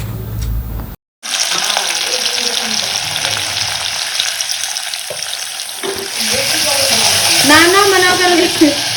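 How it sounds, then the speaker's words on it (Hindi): Carrot and potato curry being tempered in hot oil, a loud steady frying sizzle with stirring and some water-like hiss that swells toward the end, preceded by a brief cut. "अभी मैं गाजर आलू की सब्जी छौंक देती हूँ"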